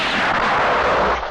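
A single loud, close gunshot blast rings out at a shooting range, a broad burst that fills the short moment before fading slightly at the end.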